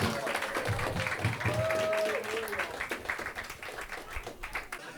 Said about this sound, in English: Thank you guys very much for cheering